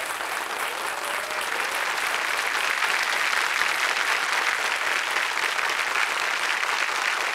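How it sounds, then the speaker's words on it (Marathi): A studio audience at a Marathi quiz show applauds loudly and continuously, dense clapping holding steady throughout. "टाळ्या वाजत राहिल्या पाहिजेत"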